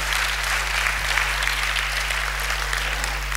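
A church congregation applauding together, steady dense clapping that fills the room at even loudness throughout, over a constant low electrical hum.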